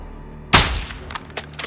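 A single sharp, loud sniper rifle shot cracks out in Call of Duty: Modern Warfare II (2022), followed by a short echoing tail and a few fainter distant impacts or shots.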